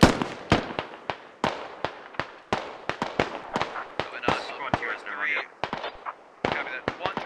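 Gunfire in the video game Squad: dozens of sharp, cracking shots in irregular bursts, some close and loud, others quicker and overlapping, with a brief stretch of garbled voice in the middle.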